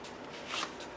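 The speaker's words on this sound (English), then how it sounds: "You hear the slidiness of the paper." Tarot cards slide and rub against each other as the deck is handled, a soft, papery shuffling swish that swells briefly in the middle of a quiet one-second stretch.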